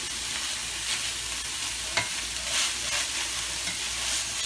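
Garlic sizzles steadily in a hot pan while making spaghetti sauce, a close, even hiss of frying with faint stirring scrapes and a small clink partway through.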